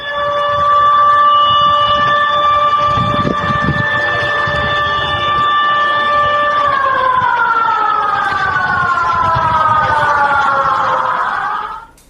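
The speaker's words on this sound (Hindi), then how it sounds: "मैक्सिको में सुनामी अलर्ट का सायरन भी बजने लगा" A tsunami alert siren in Mexico wails loud and steady with layered tones, then slowly drops in pitch as it winds down, with faint background noise beneath.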